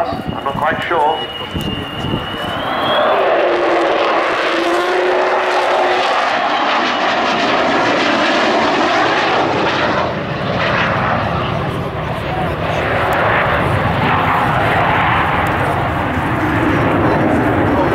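The Avro Vulcan XH558 bomber roars past at an airshow at Cosford, its deep engine noise building to a loud, sustained rumble with a rising whine, as a commentator speaks over the loudspeakers.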